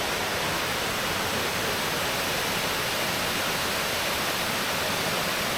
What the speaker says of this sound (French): on a l'eau super claire qui dévale la montagne